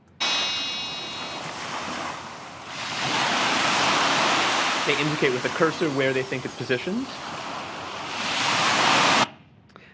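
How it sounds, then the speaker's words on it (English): Broadband surf from a virtual beach scene in a memory task game washes in a steady rushing swell, rising and falling with a wave surge near the end, while a person talks over it. "The reason there's that sound is because this is a beach, and that's the waves behind the people."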